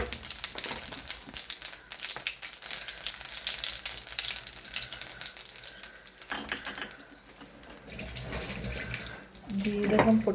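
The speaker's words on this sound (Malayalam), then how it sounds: "എണ്ണ ചൂടായി. അതിലേക്ക് കുറച്ച് ജീരകം ഇടാം." Cumin seeds dropped into heated oil in a pan give a dense, hissing sizzle with crackling spits that swell and ease, loudest near the end, while a voice talks now and then.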